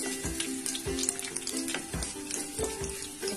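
Fenugreek seeds and two dried red chillies roast in hot oil, giving a steady sizzle and crackle. Soft clinks and stirring knocks from a utensil recur every half second or so.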